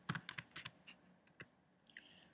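Typing on a computer keyboard while entering supplier details in Sage accounting software: quiet, close clicks in irregular bursts, a few quick keystrokes clustered early, then sparser single taps with gaps of near silence.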